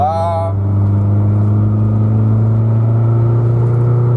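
A Suzuki Escudo fitted with a tuned CDI ignition accelerates in second gear from about 50 km/h, a loud, close, steady engine drone climbing gradually, with a brief voice at the very start.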